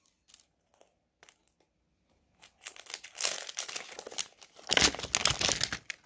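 Tape is torn off a toy package: a few faint ticks at first, then loud, close crinkling and ripping of plastic and tape in two rising bursts, with no voices over it.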